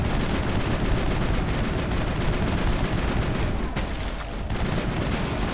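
Guns fire continuously in Mass Effect, a dense, relentless rattle of rapid shots with booming impacts layered together, loud throughout with a short lull near the end.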